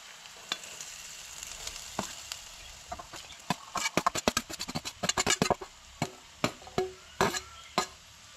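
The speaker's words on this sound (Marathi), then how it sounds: "आणि सोय सुद्धा बरी भाजून घेवपाक जाय, बरी परतून घेवपाक जाय." Onions and soy chunks stir-fried in a pan for a vegetarian thali, with steady sizzling and a run of sharp scraping, clacking spatula strokes against the pan, close and loud, no talking.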